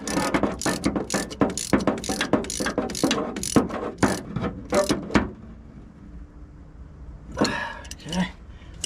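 Hand ratchet clicking rapidly in a steady run of pawl ticks while tightening steering bolts on a 1975 Isuzu, close and loud, then stopping with a brief pause before a couple of short final clicks.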